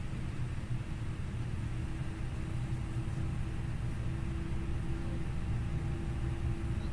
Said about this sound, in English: while we're getting the engine starting